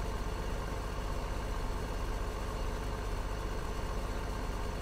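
A tractor engine idling in Farming Simulator 2015, a steady low rumbling drone that holds constant and uninterrupted, close and moderately loud, with no voices over it.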